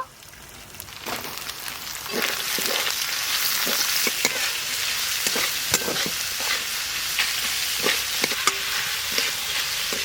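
Two bowls of chopped onion hit a hot pan for egg curry: after a brief quiet start, a full sizzle swells and carries on, broken by repeated crisp clicks and scrapes of stirring.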